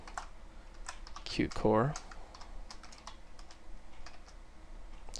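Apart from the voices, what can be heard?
computer keyboard typing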